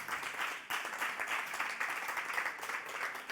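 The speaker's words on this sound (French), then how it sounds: "Je pense qu'on peut applaudir la contribution de Sarah." An audience claps to thank a contributor at an evening live show, a dense, steady round of applause filling the short stretch without a break.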